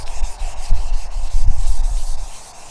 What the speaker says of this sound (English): So what I'm fixing to do now is go over it dry with a piece of 600 grit.